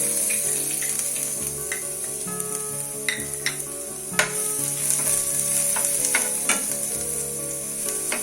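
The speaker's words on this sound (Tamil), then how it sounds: "பூண்டு நல்லா ஃப்ரை ஆகணும்" Steady sizzling of chopped garlic frying in hot oil, with occasional stirring clinks and scrapes, close and loud, no voices.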